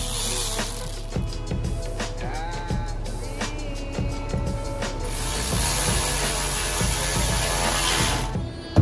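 A ratchet tightens the exhaust coupler on a Seadoo Spark Triton during a free-flow exhaust install, its rapid clicking running in repeated close bursts with brief pauses and no talk.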